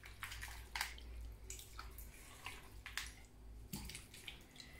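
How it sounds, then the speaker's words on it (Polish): Cold water poured over cut-up chicken pieces in a pot, ready for boiling for a Chinese chicken-thigh dish; a steady, close splashing pour with irregular sloshes and drips over a low background hum. "Teraz woda, zimna woda, trzeba gotować tego kurczak."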